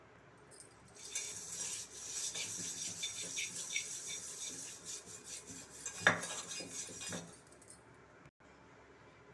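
A pot is scrubbed with a scrubber after salt and lemon, giving a steady, close rasping and scraping with light metallic clinks that stops in a few short pauses.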